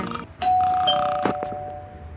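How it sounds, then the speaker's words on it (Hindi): A doorbell rung in the video game Scary Teacher 3D, a clear electronic chime tone sounding once and lingering, followed by a couple of short clicks and knocks in a quiet room. "तो मैंने डोरबेल बजा दी"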